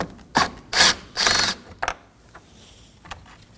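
Ratchet backing out a T30 screw on the cowl panel of a Ford Transit Connect, several quick bursts of close clicking in rapid succession, then a few isolated faint clicks.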